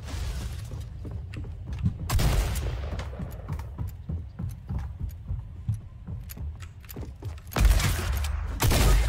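Shotgun blasts fired in the video game Fortnite, heavy booming bursts around the two- and eight-second marks amid clattering game mechanics and footsteps, close and loud.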